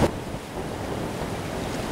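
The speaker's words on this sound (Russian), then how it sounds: "Шторм! Посмотрите, как река закипела." Stormy Volga river churned up by a sudden hurricane, with a steady roar of wind and crashing waves, loud and continuous, heavy wind buffeting the microphone throughout.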